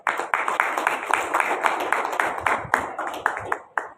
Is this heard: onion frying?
no